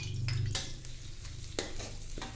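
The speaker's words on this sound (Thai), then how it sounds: "น้ำมันพอร้อนนะ ใส่กระเทียมค่ะลงไปเจียว" Garlic frying in hot oil in a wok for stir-fried noodles, a close steady sizzle punctuated by brief metal scraping and stirring clinks, with no voices.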